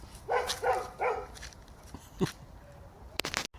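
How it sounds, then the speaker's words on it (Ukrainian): A dog somewhere outdoors gives three quick, moderately loud barks early on, then a short yip and some faint scuffling follow. Other background sounds are heard in the quieter stretch. "Хто там гавкає, як собака, ну, розберись."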